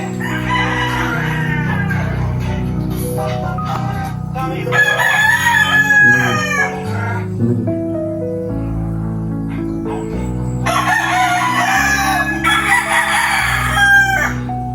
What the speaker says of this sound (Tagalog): Ah, manok panabong.